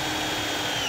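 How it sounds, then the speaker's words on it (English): Step drill bit boring through sheet-metal car body panel during a 1973 Buick Century restomod build, a steady loud whirring grind with no pauses. "Step drill bits are designed for drilling through sheet metal and ensure a perfectly round hole."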